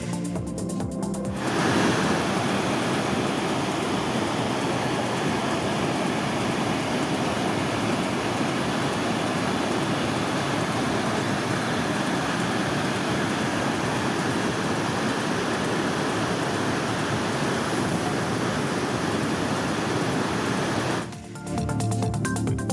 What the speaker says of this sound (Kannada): ಕೆರೆ ಕೋಡಿ ಹಿನ್ನೆಲೆ ಮೈದುಂಬಿ ಹರಿತಾ ಇದೆ